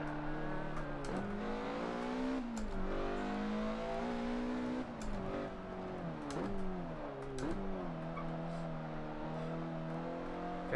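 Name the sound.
Mazda MX-5 race car driving in video game Forza 7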